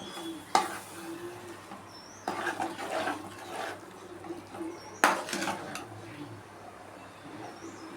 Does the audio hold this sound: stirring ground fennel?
yes